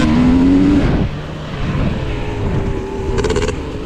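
A KTM 300 dirt bike races through a hare scramble, its two-stroke engine revving loud and close. The pitch climbs, then drops and surges again as the rider works the throttle along the trail.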